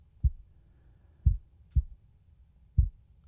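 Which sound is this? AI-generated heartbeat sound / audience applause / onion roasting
AI-generated heartbeat sound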